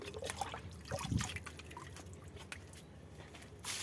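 Water is poured onto young guava plants in a home garden, giving soft dripping and trickling splashes that start and stop unevenly. It is quiet and close with light background noise and no talk.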